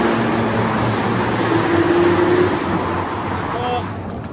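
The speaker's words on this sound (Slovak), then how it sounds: "Máme tu tunel, tak si skúsime podradiť, aby ste počuli, aké to auto má zvuk." Engine of a 2022 Chevrolet Camaro convertible with a manual gearbox, revving at full throttle after a downshift in a tunnel, a loud steady roar that fades slightly near the end.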